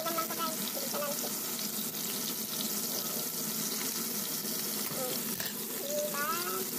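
Tempura fries in a thin aluminium pan with a steady, dense sizzle and crackle that runs without a break at moderate loudness, with light scraping and faint voices underneath.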